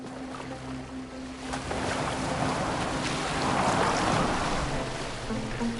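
Water washes steadily against a boat in Assassin's Creed Valhalla, a soft continuous rush of waves and wind that grows slightly louder midway, with no voices.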